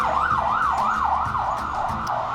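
An ambulance siren wails in a steady rising-and-falling cycle, loud and continuous throughout, with no voices over it.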